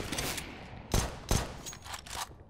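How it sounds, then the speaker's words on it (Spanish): Two sharp, heavy gunshot blasts in Counter-Strike about a third of a second apart, followed by softer shots, over a steady background of game noise. "los disparos que suelta son muy bestias"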